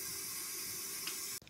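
Tap water runs steadily into a sink, filling it to rinse a collar being cleaned, a smooth close hiss that cuts off abruptly near the end.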